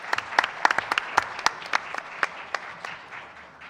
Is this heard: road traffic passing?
no